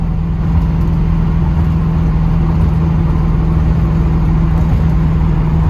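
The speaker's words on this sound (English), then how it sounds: "Not a bad riding car at all." A 1979 Chevrolet Camaro Z28, not yet at operating temperature, cruises along with a steady low engine drone and road rumble that stays loud and even throughout.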